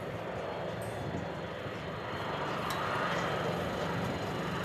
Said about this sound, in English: Let's just listen to those engines.